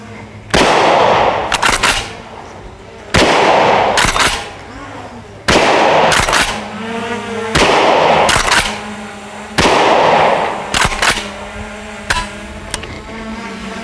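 A KSG410 shotgun firing triple-aught buckshot at an outdoor range: five loud, sharp blasts spaced a couple of seconds apart, each with a short echoing tail and handling clatter between shots.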